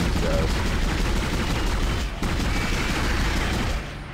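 Continuous heavy weapon fire in the sci-fi horror game Dead Space, a dense loud roar of rapid shots running unbroken for several seconds.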